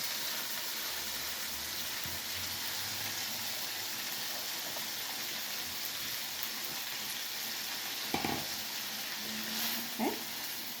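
Potatoes and cabbage sizzle in a pan with a continuous soft frying hiss, a low hum underneath and a couple of brief clatters near the end.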